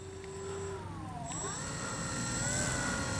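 A Dynam DHC Beaver RC plane takes off from grass, its electric motor whining steadily and rising in pitch as throttle increases, close at first and holding loud without any talk.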